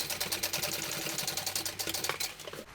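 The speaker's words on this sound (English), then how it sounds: "I am going to do a second row of stitching just next to the first." A sewing machine runs a second row of stitching beside the first, a fast, even rhythmic clatter close by that slows and stops near the end.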